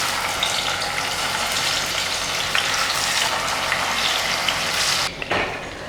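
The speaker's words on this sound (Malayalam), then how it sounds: "ഇനി നമുക്കിത് മീൻ പീസസ് ഇതിനകത്തോട്ട് ഇട്ട് കൊടുക്കാം." Fish pieces fry in hot coconut oil in a pan, a loud steady sizzle running throughout, with a sharp burst of crackling near the end as more pieces hit the oil.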